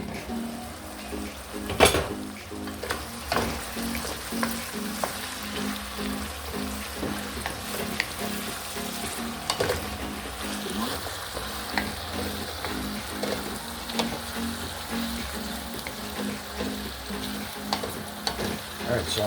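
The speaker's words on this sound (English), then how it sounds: "Then I'm going to cover it and allow it to simmer." Vegetable seasoning sauce for Jamaican fried fish simmers and sizzles steadily in a pan, with occasional utensil clinks and stirring scrapes over the continuous close frying hiss.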